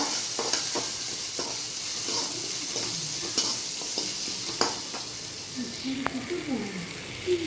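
Chopped onions sauté in a pan for a keerai poriyal, a steady close sizzle punctuated by irregular spatula scrapes and taps, with a voice briefly heard toward the end.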